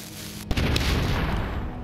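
A cannon fires in the Xbox video game Enclave, one sharp boom followed by a sustained rumbling roar that fills the rest of the moment, loud and near with no talking.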